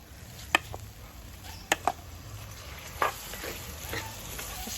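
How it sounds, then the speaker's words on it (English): Grains of rice are stirred into a pot of seasoned base for Jamaican seasoned rice, giving soft scraping and a few sharp spoon clicks against the pot over a low sizzle. "Just add the rice in and mix it around just to make sure it takes on all of that good flavor."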